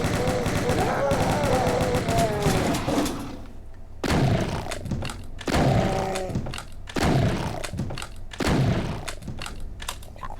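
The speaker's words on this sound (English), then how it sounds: "one chain gunner from across the room starts coming at you" A chaingunner in Doom 2 fires a chain gun in rapid, rattling bursts of loud shots, separated by short pauses, with an extended opening volley followed by several shorter ones.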